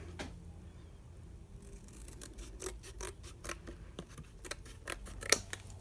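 Scissors snip through craft paper to trim off a small excess strip, a string of crisp, quiet cuts and rustles close by.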